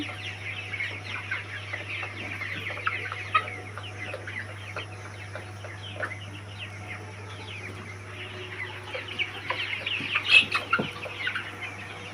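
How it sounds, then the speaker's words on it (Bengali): Chickens cluck steadily at a poultry farm, many birds overlapping in a busy, moderate-level chorus over a constant low hum, with a few louder calls near the end and no talk. "এখানে কয়টা মুরগি আছে"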